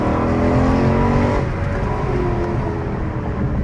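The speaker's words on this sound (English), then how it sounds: "Give y'all one quick pull. First gear." A Dodge SRT8 roars loudly as it accelerates hard through first gear, the engine note climbing steadily before easing off, close and alone.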